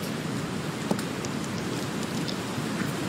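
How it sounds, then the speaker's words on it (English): Light rain shower falling steadily over an outdoor women's professional golf course in Korea, a continuous soft hiss with faint scattered drop ticks and no voices. "It's actually started raining."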